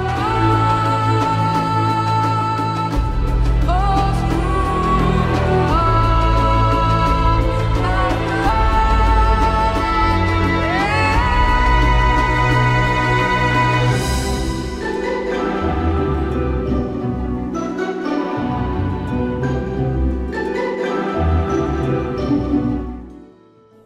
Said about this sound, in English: The orchestrion roll sounds like this.